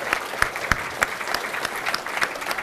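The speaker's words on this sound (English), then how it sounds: "Big round of applause for Razer." Steady applause from a crowd, with sharp individual claps popping out of a dense wash of clapping that holds for the whole stretch.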